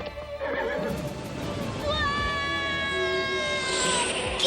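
A cartoon flying horse, conjured from a bike, gives a long, high, wavering neigh that rises in pitch, loud and close over a busy animated soundtrack.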